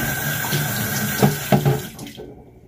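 Kitchen tap water runs steadily while dishes are washed by hand, a continuous hiss broken by a few clinks and splashes before the flow cuts off abruptly near the end.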